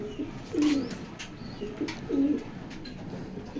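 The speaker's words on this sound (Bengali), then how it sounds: "যশোর ক্লাবের কবুতর।" Jessore club racer pigeon cooing close by, two deep throaty coos about a second and a half apart over a quiet background with faint, sparse chirps from other birds.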